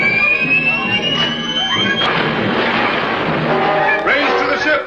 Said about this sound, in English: Sound the collision alarm.